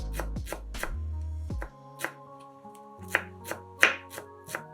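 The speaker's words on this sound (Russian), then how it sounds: "Небольшой пучок укропа очень мелко нарезаем ножом." Knife chopping a small bunch of dill very finely on a board, a quick series of close, crisp taps with brief pauses, no voices.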